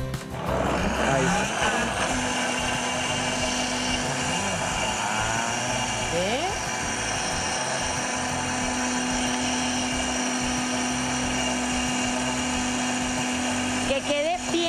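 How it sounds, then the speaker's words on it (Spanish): A blender purees pumpkin cream with orange and ginger, its motor whirring steadily and loudly for the whole stretch with a sustained hum, while a person talks over it intermittently. "Y empezamos a licuar."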